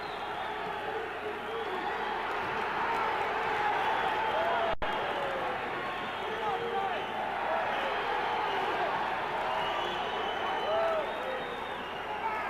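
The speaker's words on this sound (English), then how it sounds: "The crowd is really uproaring." Arena crowd at a super welterweight boxing match roaring steadily in a loud, continuous wash of cheering and noise, with a commentator talking over it.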